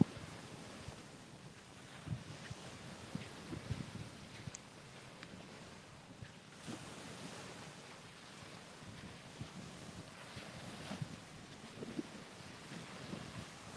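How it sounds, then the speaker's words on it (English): Steady wind at Hollywood Beach rumbles and buffets the microphone throughout, with low gusty roar and occasional louder bursts, no voices present. "It's a little bit windy over here."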